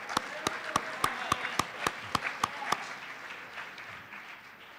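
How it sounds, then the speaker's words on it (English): At a high school fall varsity athletic awards event, a single sharp, close clap repeats in an even rhythm over faint crowd clapping, then gives way to a softer, fading round of applause. "A round of applause for him."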